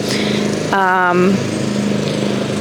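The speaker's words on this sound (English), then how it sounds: "hopefully you guys can still hear me over the sound of the lawnmower" A lawnmower runs outdoors as a steady, loud engine drone throughout, with a voice talking over it.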